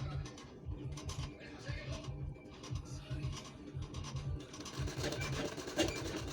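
A sewing machine stitches a full round seam to attach a blouse sleeve, a soft rhythmic whirring chatter in repeated runs with brief pauses, fairly quiet and close.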